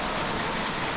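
Rain falls steadily in the Philippine countryside, a dense, even hiss of drops on surfaces that is loud and close throughout the brief moment, with nobody speaking.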